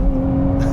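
A manual 2023 Nissan Z sports car engine pulls hard under acceleration, a loud steady drone with a firm tonal hum, heard close and continuous with no talking over it.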